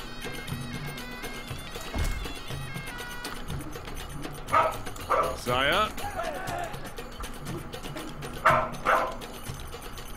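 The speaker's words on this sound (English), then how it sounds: "I have a dog that's barking up in a kid's room upstairs." A dog barks from an upstairs kid's room in a house. Faint, distant barks come in short clusters under game music and sound effects while someone talks.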